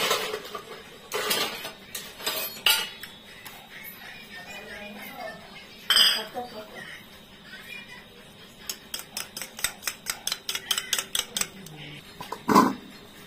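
Peanuts frying in a pan on a home kitchen stove. A utensil clinks and scrapes against the metal in scattered knocks, then in a quick, regular run of stirring taps near the end.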